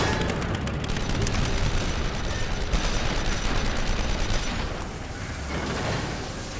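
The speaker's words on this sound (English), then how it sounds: "They're shooting from above." Sustained gunfire from enemies shooting down from above in The Evil Within, a dense rattling barrage of rapid shots over several seconds that thins slightly toward the end.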